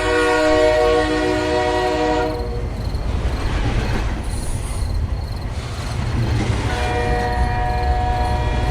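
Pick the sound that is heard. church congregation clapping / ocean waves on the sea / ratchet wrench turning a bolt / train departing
train departing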